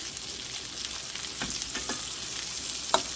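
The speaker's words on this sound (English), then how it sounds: "I'm just flipping them lightly so they can get brown on the other side" Smoked sausages brown in a hot pan with a steady close sizzle, broken by a few soft scrapes and taps as they are flipped, and one sharper clack near the end.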